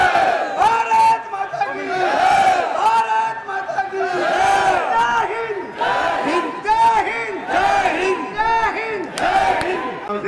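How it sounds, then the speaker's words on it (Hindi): A political rally crowd in Mahendragarh raises repeated rhythmic chanting cheers, loud and close, swelling in waves of massed voices with slogan-like shouts across the whole stretch. "आपकी तालियां बराबर बजती रही हैं"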